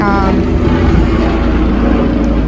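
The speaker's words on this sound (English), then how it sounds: "Airplane." A steady propeller-plane drone fills the air, constant and fairly loud, passing overhead without pause.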